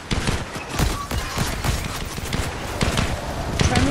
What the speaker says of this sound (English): Figure out where y'all are shooting from.